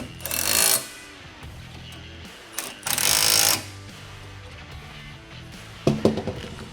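A ratchet or wrench tightens the hardware on a riding mower's deck height lift lever in three separate loud bursts of rapid mechanical clicking, with quiet pauses between them.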